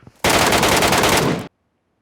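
A sustained burst of rapid automatic gunfire from the mobile shooter Metro Royale, loud and close, rattling continuously for just over a second before cutting off into silence.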